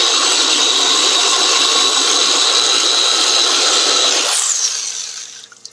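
An electric drill, soaked in water, runs with a loud, steady high-pitched motor whine, then winds down and spins to a stop near the end.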